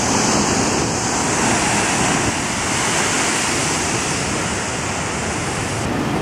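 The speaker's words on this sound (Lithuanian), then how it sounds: "Didesnis bangos atsirita kas 14 sekundžių." Ocean waves roll onto the rocky Madeira coast in a steady, loud, continuous roar of surf and wash, close by and with no voices.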